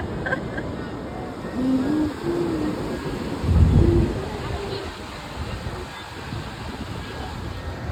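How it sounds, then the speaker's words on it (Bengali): Ocean waves wash in at Cox's Bazar beach against the steady roar of wind over the shore, with a dull surge swelling midway and a few faint voice-like tones. "বেশি কত বড় ঢেউ আসতেছে"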